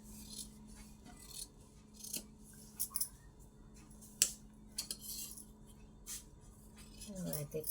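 Scissors snip through two layers of cloth at the neckline of a blouse. The sound comes as quiet, scattered crisp clicks and short cutting strokes over a low steady hum, with a brief burst of rustling at the end.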